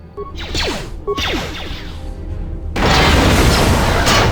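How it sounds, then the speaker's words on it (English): A grenade explosion in the video game KOTOR 2: short whooshing and whip-like combat effects, then a loud, sudden booming blast that roars on to the end. "Let's give him a grenade."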